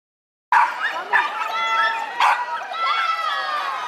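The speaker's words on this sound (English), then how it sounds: "The Martinsville Curling Club filled with over 35 corgis racing for a treat." Corgis bark and yip in quick, excited bursts at a dog race held inside a curling club, with several short barks overlapping and a busy indoor crowd murmuring beneath.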